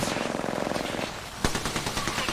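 Rapid automatic weapon fire in a battle royale video game, fast repeated bursts with a sharp louder shot near the middle, continuing in a quick rhythmic rattle.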